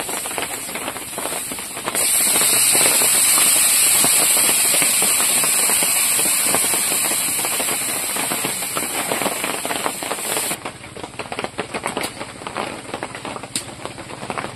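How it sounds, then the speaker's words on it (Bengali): Loud, steady sizzling and hissing as water hits a hot pan of spiced river fish curry with chilli powder, a broad crackling roar that eases slightly partway through and keeps bubbling. "এবার জল দিয়ে দেবো।"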